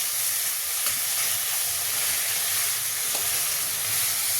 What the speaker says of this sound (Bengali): লঙ্কা কুচি দিয়ে এটাকে নাড়বো আদার গন্ধটা যতক্ষণ না যাচ্ছে